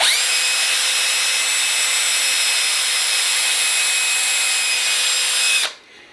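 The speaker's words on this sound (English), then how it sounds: "So just going to drill these pilot holes" A power drill whines steadily at high speed for several seconds drilling pilot holes in wood, close and loud, then cuts off abruptly.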